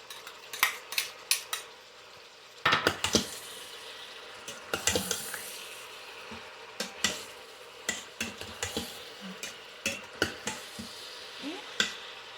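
Lamb with chopped tomatoes and five cloves of garlic is stirred in an Instant Pot, a utensil scraping and clinking against the metal pot in repeated short strokes over a faint sizzle, with one louder clatter midway.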